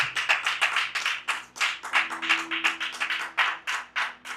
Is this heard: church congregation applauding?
yes